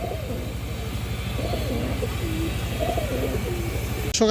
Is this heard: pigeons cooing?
yes